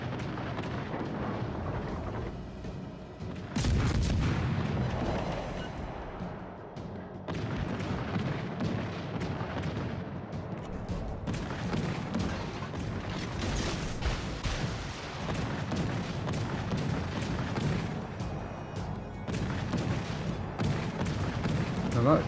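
Naval battle in World of Warships Legends, with torpedo hits and gunfire explosions booming repeatedly across a continuous dense roar of battle noise, loud and near throughout, including one heavy blast early on.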